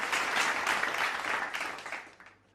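An audience at a sustainability hackathon finale in Pune applauds in a full, even wash of clapping that fades away over a couple of seconds.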